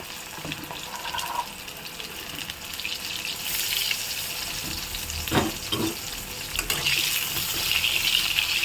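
Pointed gourd slices fry in hot oil in a home kitchen, a continuous sizzle with a few sharper crackles and clinks from the pan, close by and without talking.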